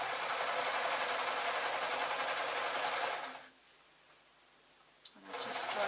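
A sewing machine stitches leftover fabric into a scarf, running as a steady close whirring drone for about three seconds before stopping into near silence, followed by a brief click and a short restart of the motor.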